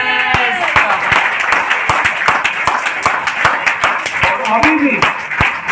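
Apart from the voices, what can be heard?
audience clapping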